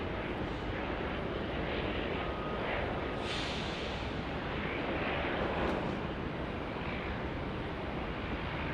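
A Qantas 737-800 airliner rolls down the runway at Sydney Airport, its jet engines producing a steady, broad roar heard from a distance with wind buffeting the microphone.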